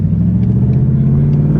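A Nissan 350Z engine drones in a steady low rumble while driving, close and even throughout, with no voices over it.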